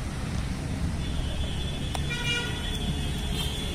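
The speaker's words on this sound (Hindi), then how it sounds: "इसका हॉर्न बेशक सिंगल है लेकिन इसके हॉर्न जो है बहुत स्ट्रॉन्ग है" A Royal Enfield motorcycle's single horn sounds in a short, strong steady tone over loud engine rumble and road noise.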